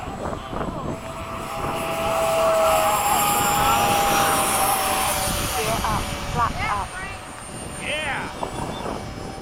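An E-flite P-51 RC model plane flies overhead, its propeller engine droning loud and steady, swelling and fading as it passes, while several people talk and shout nearby.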